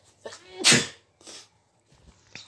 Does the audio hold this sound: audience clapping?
no